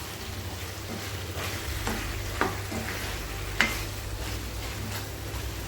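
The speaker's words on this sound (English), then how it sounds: "Just a quick mix." Partly cooked dry chicken with bay leaf frying in a pan, a steady close sizzle broken by a couple of sharp spatula knocks as it gets a quick mix.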